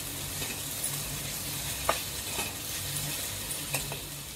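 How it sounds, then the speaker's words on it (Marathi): Okra sabji fries over a low flame in a pan as salt is stirred in, giving a continuous soft sizzle broken by a few scraping, clinking spoon strokes against the metal. "मीठ घालून ढवळले"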